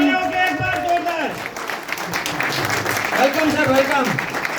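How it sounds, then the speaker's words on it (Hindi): Audience at a Shimla tour celebration event gives loud standing applause for an invited guest, a dense wash of clapping mixed with crowd noise while a voice speaks over it at the start and again near the end. "जोरदार तालियां खड़े होके एक बार जोरदार।"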